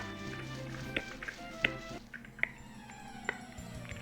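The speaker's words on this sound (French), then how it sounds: "Ah, ce fameux chat, comment il s'appelle?" A cat Pokémon's cry in the fan game Pokemon Jaspe, a few short, sharp chirpy electronic yowls repeating over steady background game music.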